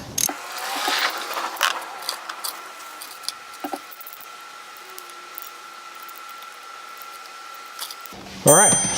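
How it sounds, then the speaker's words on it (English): Ratchet on an 8mm socket tightening cover bolts on a 2018 Benelli TNT 135 motorcycle, quick bursts of clicking pawl strokes repeating close up, separated by short pauses and a final louder clatter. "Take your 8mm socket, 8mm socket, and tighten down"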